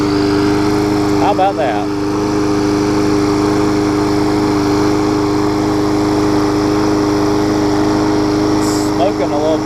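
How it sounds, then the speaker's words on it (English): A rally lawn mower engine runs steadily with an even drone, close and loud throughout, while a person speaks briefly over it. "Smoking a little bit, but cranked on the first pull and it's running great. Pretty quiet mower too."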